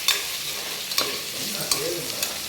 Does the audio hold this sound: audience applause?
no